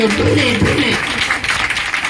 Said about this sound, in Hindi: ताली मुझे आपकी कमजोर लग रही है